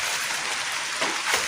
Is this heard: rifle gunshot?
no